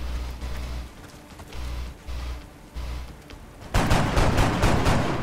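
A burst of gunfire erupts in the turn-based strategy game XCOM Long War, a loud rattling volley after a stretch of quieter ambient game sound.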